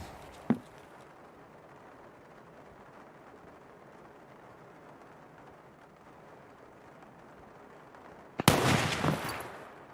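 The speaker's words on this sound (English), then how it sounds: "That's a big shotgun." A shotgun fires in a shooter video game: one sharp distant crack near the start, then a long low rumble, and a very loud, close blast later on with a rough tail that fades over a second.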